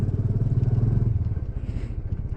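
A Royal Enfield Classic 350 motorcycle rides along at night on a cold winter road, its engine giving a close, steady low rumble with a quick pulsing thump throughout.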